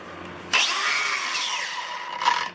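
Milwaukee M18 Fuel cordless 6-inch grinder on a 3 amp-hour battery, switching on with a sharp whine that rises to full speed, then dropping quickly in pitch as the electric brake stops the wheel within seconds, close and loud.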